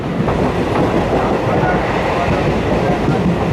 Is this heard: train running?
yes